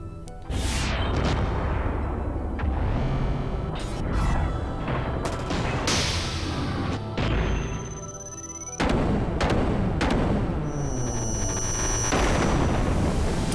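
Booming cannon blasts and bursts from Billy's Jesse attacks in the video game Xenogears, a dense run of loud explosive hits and mechanical clanks following one another with little pause.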